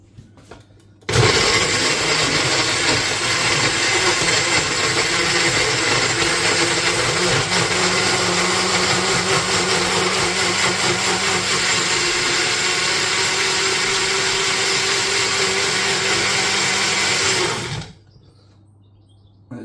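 A kitchen blender liquidizes marinara sauce ingredients, starting abruptly and running at a steady, loud, continuous whir for about sixteen seconds before cutting off into near silence.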